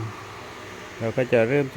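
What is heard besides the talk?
electric fan running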